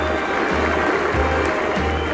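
A cricket crowd applauds Botham's century, saving England from an innings defeat: sustained, fairly distant clapping as a continuous wash, with a voice talking over it.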